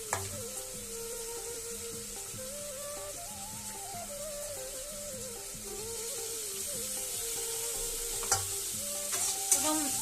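Paneer cubes browning in a pan for paneer biryani, a steady, quiet sizzle with soft scraping as they are stirred, with a faint tonal hum running underneath and a couple of sharp clinks near the end.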